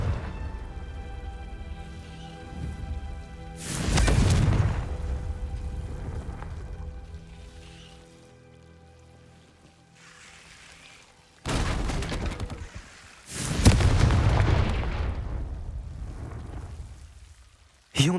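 Spell explosions from the Hogwarts Legacy video game, with loud bursting blasts at about 4 and 12 seconds and again near 14 seconds, each trailing off into a softer rumble over a quiet background.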